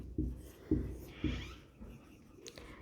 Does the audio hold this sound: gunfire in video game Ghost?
no